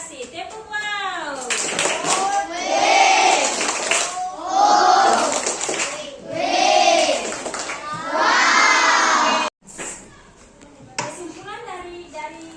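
Fifth-grade schoolchildren in a classroom chant a rhythmic clapping cheer together, several loud bursts of shouted voices and claps in quick succession, ending with a teacher speaking.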